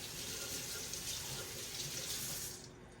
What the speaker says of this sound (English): rinse with cool water.